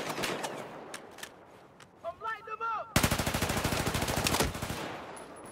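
Rapid automatic gunfire in Battlefield 4 rattles in a fast, even stream of loud shots lasting about three seconds. Scattered single shots come before it, and a short burst of voices or chatter comes just before the burst.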